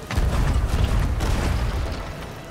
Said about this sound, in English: Shoot the cannon.